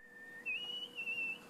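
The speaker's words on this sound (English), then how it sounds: "they will stop here just to listen to him whistle or sing to them" A zoo animal whistles in a faint, wavering high tune, a short rising and falling melodic phrase heard alone over quiet background.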